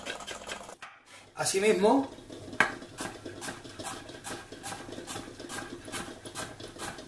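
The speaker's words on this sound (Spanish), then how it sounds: "Una zanahoria que voy a cortar en dos. Esta que la voy a picar." Rhythmic knife chops through a carrot on a board, a steady run of crisp taps after a brief scrape, with someone speaking.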